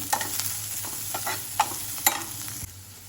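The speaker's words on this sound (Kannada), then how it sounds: "ಈರುಳ್ಳಿ ಫ್ರೈ ಆಗ್ತಿದ್ದಾಗೆ ತೆಳ್ಳಗೆ ಹೆಚ್ಚಿಟ್ಕೊಂಡಿರುವಂತಹ ಕ್ಯಾಬೇಜನ್ನು ಹಾಕ್ಕೊಳ್ತೇನೆ ಸ್ವಲ್ಪ. ಇದನ್ನು ಮತ್ತೊಮ್ಮೆ ಚೆನ್ನಾಗಿ ಫ್ರೈ ಮಾಡ್ಕೋಬೇಕು." Onion and thinly sliced cabbage fry for gobi manchurian, a steady sizzle broken by several sharp spatula scrapes and clinks against the pan.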